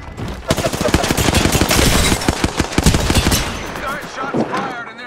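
Apex Legends firefight: rapid automatic gunfire in quick loud bursts, close and sustained for several seconds before tapering off, with brief voice lines mixed in.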